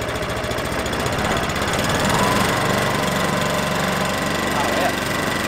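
A Swardman electric reel mower being revved up gives a steady, fairly loud mechanical whir with a constant low rumble and rattling blades throughout.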